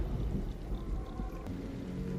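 Steady rain with a low rumble underneath, a continuous wash of noise with no voices.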